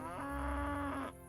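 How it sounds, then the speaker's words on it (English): A horse in Kingdom Come: Deliverance gives one short, loud, low tonal call lasting about a second, close and alone, sounding almost like a cow's moo. "Just the sound my horse makes"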